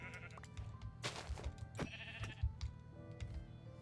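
Sheep in the Minecraft video game bleat several times in short, nasal calls over a low game background, with no talking.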